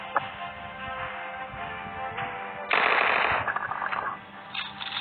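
Rapid bursts of automatic gunfire in PUBG on the Arena map crackle continuously, with a louder, denser volley partway through, sharp and close.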